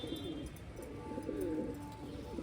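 Pigeons coo steadily at a pigeon club loft in Tarn Taran, a close, continuous layering of low, throaty burbling calls from several birds with no talking over them.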